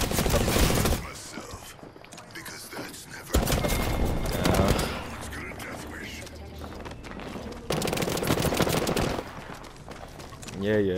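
Rapid bursts of gunfire in the Apex Legends shooter come in several loud volleys separated by quieter gaps, with players talking over the action.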